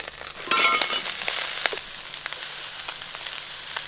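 Chopped cabbage drops into hot oil with fried small shrimp, a sharp sizzling burst followed by steady frying hiss, close and alone.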